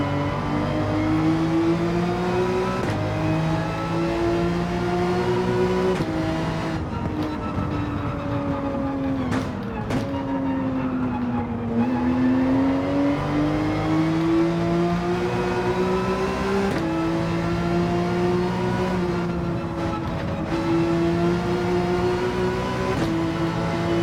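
Porsche 911 GT3 race car engine pushed to the handling limit, a loud close in-car roar with rising revs, sharp gear shifts and lifts into corners, running steadily for over twenty seconds.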